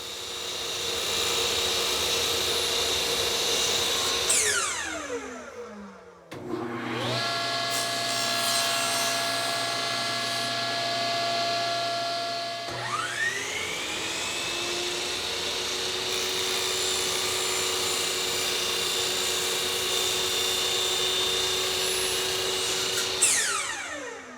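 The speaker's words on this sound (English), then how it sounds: "making the first cut on the miter saw and then finishing off the cut on the table saw" Power saws whine up and cut through door jamb wood, first a miter saw, then a table saw, each motor spinning up and winding down with a steady loud cutting drone in between, close and without talk.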